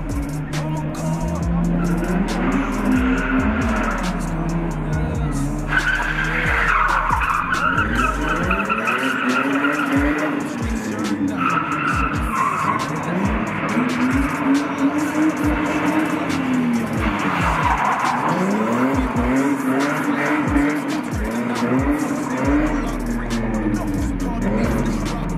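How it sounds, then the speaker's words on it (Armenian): A drift car tears through a competition run in Armenia, tires squealing hard and continuously through aggressive slides while the engine roars and revs rise and fall, loud and close throughout. "նա հենց առաջին իսկ պտույտներից բավական ագրեսիվ դրիֆտ է սկսում, նրա բոլիդի անիվները ուժգին չռնչում են"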